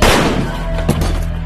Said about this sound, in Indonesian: Sebelum Bob sempat menembak Jerkov, lebih dulu menembak pistol ke kepalanya sendiri.